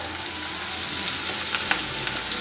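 Onions frying in hot oil with spluttering mustard seeds for a fish curry make a dense, loud, continuous sizzle and crackle, close up and steady throughout, with no voices.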